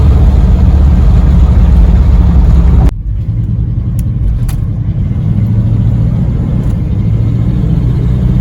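A car fitted with a Rochester Quadrajet carburetor cruising on the road, a loud steady engine drone and tire rumble that drops to a lighter hum partway through, with faint clicks, no talk.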